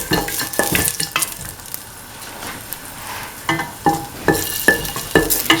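Cashews sautéing in butter in a pan, with a steady sizzle and repeated scraping stirs from a utensil against the pan, loud and close.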